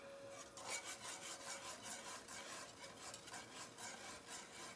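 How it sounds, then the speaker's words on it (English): Faint, steady rhythmic scraping as a spoon stirs Mrs. Wages ketchup mix with sugar in a pot, repeated rubbing strokes at a close, quiet level. "I'm gonna stir this, I think, while I do it"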